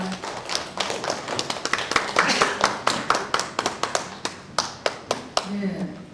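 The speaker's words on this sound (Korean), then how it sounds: "큰 박수 부탁합니다" An audience at a book launch talk concert gives a round of applause: scattered, crisp individual claps close by that settle into a slower, rhythmic clapping before thinning out.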